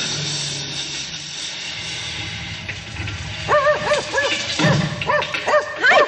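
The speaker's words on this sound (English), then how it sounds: "no one claimed Pudge, as Tim had named the dog" A dog in an audio drama barks and whimpers in quick, close yips and whines, following a stretch of muffled background sound.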